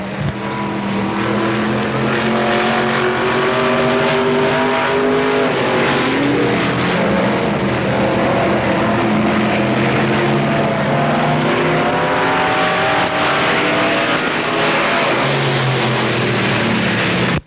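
A race car laps Pennsylvania Motor Speedway at the Fall Classic 40 in 1993, its loud engine droning continuously with rising and falling pitch as it passes, with no pauses.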